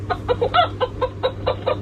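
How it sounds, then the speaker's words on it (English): A hen gives a quick series of close, rhythmic clucks, about eight short calls in under two seconds, over a steady low hum. "A hen is a female chicken."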